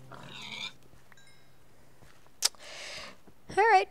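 A Minecraft pig gives a couple of short oinks amid other brief game sounds, including a sharp click and a louder squeal-like burst near the end, with no talking over them.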